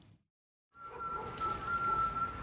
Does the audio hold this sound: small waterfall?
no